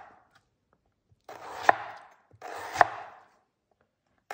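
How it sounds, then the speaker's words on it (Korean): Two separate bursts of a knife finely slicing radish into thin strips for a seaweed salad, each a quick run of crisp, close chopping taps on a cutting board, separated by a short silence. "무 생채도 좀 이렇게 가늘게 썰어 주시는 게 좋으세요"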